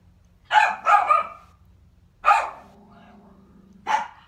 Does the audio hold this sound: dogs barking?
yes